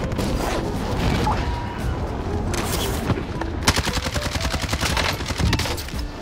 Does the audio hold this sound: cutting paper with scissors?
no